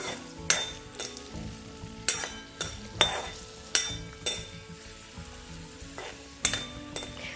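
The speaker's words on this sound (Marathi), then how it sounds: "जे मी सगळे ड्रायफ्रूट्स तुम्हाला सांगितले होते ते मी सगळे आता यामध्ये भाजून घेणार आहोत." Dry fruits roast in ghee in a pan for sheera, a soft sizzle broken by rhythmic scrapes and clinks of a spoon stirring against the metal, close and without talk.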